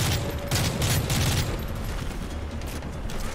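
Bursts of heavy automatic gunfire in Call of Duty Modern Warfare 3, loud rapid volleys near the start that thin into scattered shots and rumble, with no voices.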